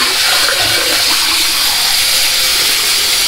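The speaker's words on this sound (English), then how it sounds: "Fill up one bowl" Hot water from a bathroom tap pours steadily into a bowl, a loud, continuous rushing splash that stays even from start to finish with no talking.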